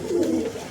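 A pigeon held in the hand gives a single short, low throaty coo, close and clear, with no talking.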